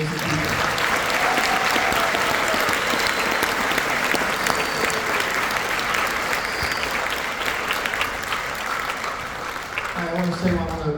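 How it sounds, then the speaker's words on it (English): An audience at a school honor band concert gives the teachers a sustained round of applause, dense and loud throughout with a few scattered voices mixed in, easing off only slightly near the end. "So how about one more round of applause for these amazing teachers"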